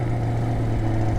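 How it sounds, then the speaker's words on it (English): A 2021 Chevrolet Corvette C8 Convertible with the Z51 package idles after startup, a steady, close, low exhaust rumble holding even throughout with no revving and no voices. "So we're gonna give you a quick startup, just so you can hear the exhaust."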